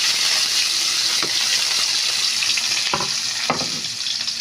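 Garlic and onion sautéing in hot oil in a pan for adobong pusit, a steady loud sizzle throughout with a few sharp crackles and stirring scrapes near the end, no voices.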